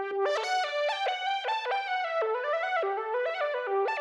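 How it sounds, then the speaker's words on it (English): Hyper Horn Inside Sky Keys synth lead plays a bright, brassy melodic phrase of rapid stepped notes with rich harmonics, clean and alone, in an R&B beat production. "It's called Hyper Horn Inside Sky Keys,"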